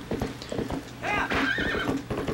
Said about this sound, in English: I've overwhipped my horse.